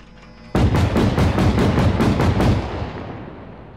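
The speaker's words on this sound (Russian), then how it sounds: "Пушка работает." Tank cannon firing in Arma 3 with the RHS mod: a sudden loud blast followed by a rapid rattling series of bursts and rumble for about two seconds, then a fading tail, with no talking.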